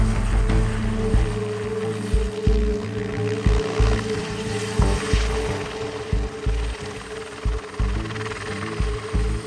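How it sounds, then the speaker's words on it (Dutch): Helicopter flying a low survey over a wide area in the Netherlands with a large measuring hoop slung beneath it, a steady loud rotor drone with pulsing thumps, no voices. "gebruiken we een helikopter."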